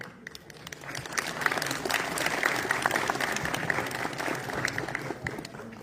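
An audience at a National School of Drama theatre festival performance applauds in a steady, dense burst of many hands clapping that swells and holds for several seconds.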